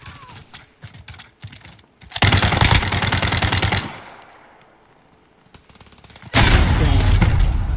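Rapid automatic gunfire crackles in a first-person shooter free-for-all match, starting with scattered shots, then two long loud sustained bursts separated by a quieter lull, close and harsh.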